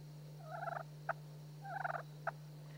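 Turkey friction call worked with the striker pinched too tightly, giving two short bursts of choppy, stuttering yelps, each followed by a single sharp tick like a woodpecker peck, close and clear over a steady low hum.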